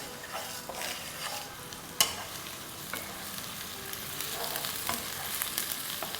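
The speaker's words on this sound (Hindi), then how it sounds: "तो ये सब डाल देंगे पैन में और इसे अच्छा सा रोस्ट करेंगे।" Whole cardamom, star anise, cinnamon, mace and nutmeg roast in a pan with a soft, quiet sizzle, stirred with scraping strokes and a sharp clink partway through.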